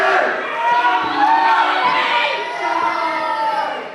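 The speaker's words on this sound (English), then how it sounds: "Cheer. Come on, cheer." Crowd at a wrestling event cheers and shouts loudly close by, a dense swell of voices rising and dipping in waves for a few seconds.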